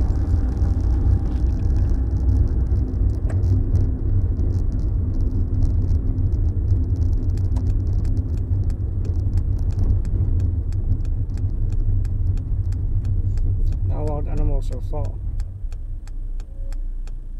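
Steady road traffic on a South African street, a continuous loud rumble of passing cars and engines throughout, with a brief burst of voices near the end.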